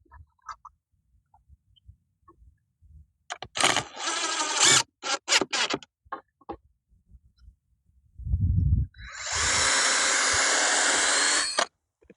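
Power driver sinking screws into timber while building an allotment structure, with two short whirring bursts followed by one long steady whine, close and loud.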